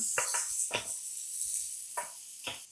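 Vegetables frying in a pan for semiya upma, a steady high sizzle broken by a few scraping stirs of a spoon against the pan, close and fairly loud.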